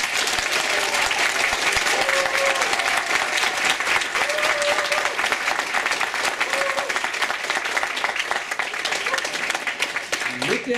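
Loud, continuous crowd applause at a live audience vote event in Bochum, dense and steady for about ten seconds, with brief cheers or voices mixed in.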